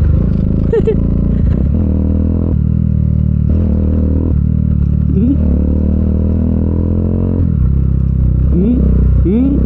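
A motorcycle with soft suspension rides over a potholed rural road past rice fields, its engine droning steadily up close with rising revs, clattering and scraping over bumps, as the rider talks.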